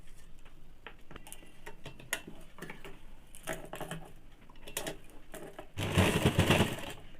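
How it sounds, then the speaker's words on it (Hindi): Sewing machine stitching a blouse: scattered ticking and short clattering bursts, then a louder, denser run of stitching near the end, close by with no voices. "अब मैं इसे सिल के बताती हूँ।"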